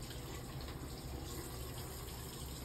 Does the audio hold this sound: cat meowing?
no